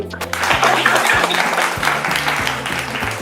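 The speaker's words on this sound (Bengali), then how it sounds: "তাহলে টিম বির জন্য হয়ে যাবে হাততালি" A room claps for team B at a Senco family contest in the Garia store, sustained applause running throughout over a repeating musical backing.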